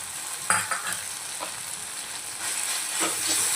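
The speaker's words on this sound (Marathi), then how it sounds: "आता यामध्ये आपण हिरवी मिरची ॲड करूया" Green chillies stirred into bitter gourd frying in a pan, a continuous close sizzle with a few sharp scraping stirs, louder toward the end, no talk.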